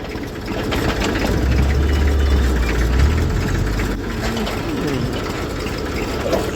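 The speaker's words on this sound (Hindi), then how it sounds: "ट्रैक्टर आ रहा है" A newly bought tractor pulls up at a farm field near a sugarcane plot, its engine running as a steady, close low rumble that stays loud throughout, with faint voices in the background.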